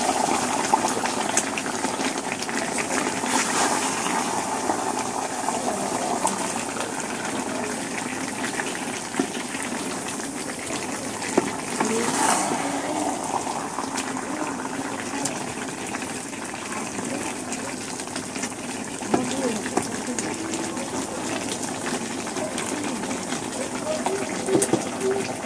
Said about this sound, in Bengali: সেটা গোশতগুলোকে আমি ভালো মতো আগে কষিয়ে নিব